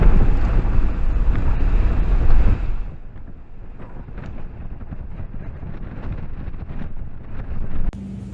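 Heavy wind buffets the microphone on a high-elevation overlook along Skyline Drive, Utah, with a loud, rough roar for a few seconds, then eases into a softer, steady rush of gusty noise.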